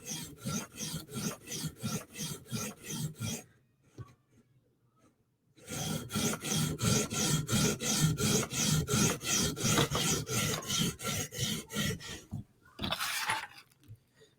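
A Spyderco Sage knife with REX 121 steel is stroked across a sharpening stone in fast, even rasping passes, two long runs split by a pause, then a brief final scrape.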